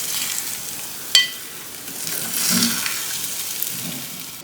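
Beaten eggs sizzle steadily in a hot pan while being stirred until they set firm, with one sharp utensil clink against the pan and a swell of frying hiss near the end.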